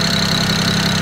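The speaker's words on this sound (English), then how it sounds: "See, now it's just idling normal." A BMW 335i, a car partway through a troubled build with a suspected leaky injector, idles steadily with a constant low rumble, close and loud, with no talking.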